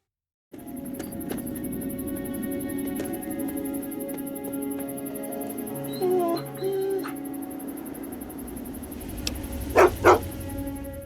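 A cyborg dog companion from the Fallout video game barks in a few short bursts near the end, over a steady game soundtrack and ambient hum.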